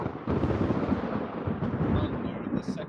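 Theatrical thunder effect in a Macbeth audio reading, a broad, sustained rumble rolling loud and continuous for a few seconds, with no voices over it.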